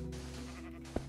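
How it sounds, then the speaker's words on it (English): A sheep in Minecraft gives a short bleat near the end, clear and close over a steady low in-game hum. "it's sheep."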